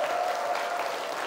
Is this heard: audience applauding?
yes